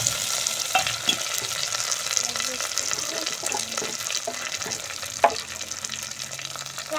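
Coriander leaves and curry leaves sizzle in hot coconut oil in a pan for an egg masala, a steady crackling fry with stirring scrapes and a sharp clink, while a person talks.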